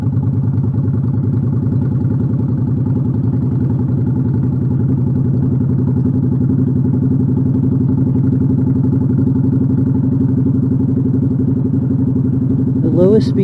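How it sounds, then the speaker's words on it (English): A motorcycle engine lugs along at low speed in fifth gear on a night road, barely above idle, a steady low throbbing drone with even pulsing throughout and a brief rise at the very end, with no talking. "the engine is going so slow that it's almost like barely even above idle"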